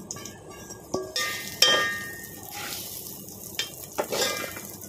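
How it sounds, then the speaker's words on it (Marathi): Coarse wheat (lapsi) dry roasting in a pan, a soft crackle broken by sharp metallic spoon clinks and scrapes against the pan at irregular intervals, close and alone. "तर आपण यामध्ये छान असा हा भरडा भाजून घेऊया"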